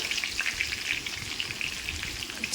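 One tablespoon of mustard seeds crackles and pops in hot oil, a dense steady spatter of sharp little bursts, close and continuous with no talking.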